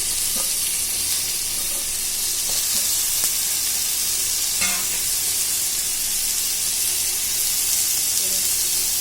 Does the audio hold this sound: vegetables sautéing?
yes